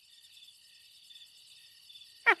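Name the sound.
recording of a cricket chirping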